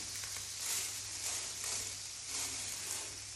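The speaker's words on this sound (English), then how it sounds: "So we're frying our rice." Bomba rice for paella negra fries in a pan, a steady soft sizzle and hiss close by with slight stirring swells and no talk.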